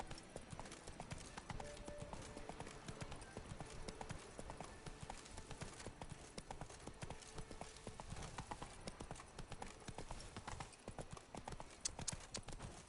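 Hoofbeats of the horse Roach galloping in The Witcher 3: Blood and Wine, a steady, loud, continuous clip-clop rhythm running throughout with faint game background sounds.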